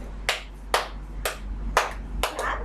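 A single person clapping hands while imitating a child during play, about six separate claps spaced roughly half a second apart, close and clear over a quiet room.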